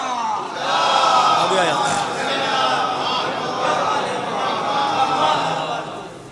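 A crowd at a religious celebration gathering roars a slogan in unison, a loud, sustained chorus of many voices bellowing together throughout.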